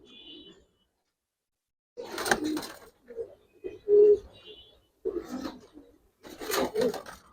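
A pigeon in a loft coos in short, separated bursts, mixed with brief rustling or flapping noises and silent gaps between them.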